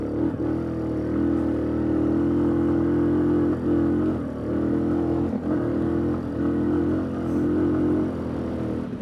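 Suzuki KingQuad 750 ATV engine revving steadily at high RPM during a test drive, a loud, continuous mid-pitched drone that dips briefly a couple of times before climbing again, with no talk over it.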